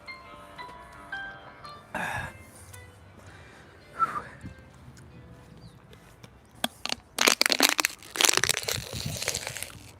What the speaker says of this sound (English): I already crushed down 3 bottles of water today.